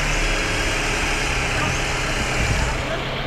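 A Ford Escape 2.3 runs just after starting, following two years of sitting unused. A loud, steady broadband engine roar continues evenly throughout, close by.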